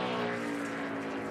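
A NASCAR race car at speed on track during qualifying for the 2017 Boyd Gaming 300, giving a steady, loud engine roar throughout with a strong droning tone.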